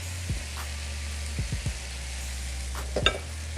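Onions fry in a pan with a steady, soft sizzle, and a few stirring scrapes come through at intervals.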